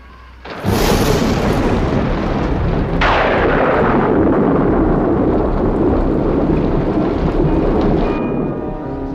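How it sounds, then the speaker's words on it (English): A violent thunderstorm pours down heavy, steady rain that roars loudly throughout, with a sharp thunder crash about a third of the way in before the downpour rumbles on. "The storm's really building up."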